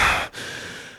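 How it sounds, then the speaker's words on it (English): A single stressed breath, a loud sharp inhale or sigh that drops into a brief pause and then trails off into a softer, steady exhale, heard close and alone without talk. "just listen to how I'm breathing."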